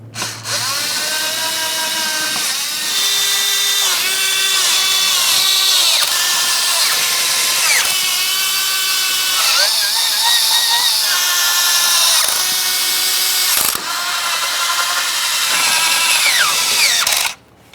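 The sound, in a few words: power tool snugging Ford Ranger valve cover mounting bolts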